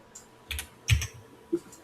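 A few scattered computer keyboard keystrokes tap out in loose, irregular clusters during a DevOps cloud working session, fairly quiet and close with no talking over them.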